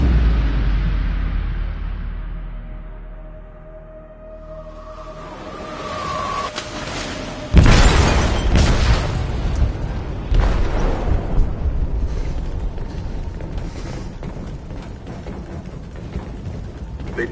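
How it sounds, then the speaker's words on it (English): Explosion detonated in a ship's hold in a video game: a deep rumbling swell builds, then a sudden loud blast near the middle, followed by a long roaring, crackling aftermath with scattered debris bursts. "They detonated an explosive in the hold."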